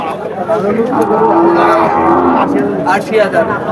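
A bull moos in a long, loud, drawn-out call lasting a few seconds, close by at a livestock market, with a second lowing note near the end.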